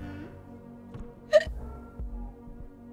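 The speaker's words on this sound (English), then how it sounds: "I had the hiccups and the vomits." A single sharp hiccup rises abruptly mid-clip in a quiet room, close and brief, with faint low background hum around it.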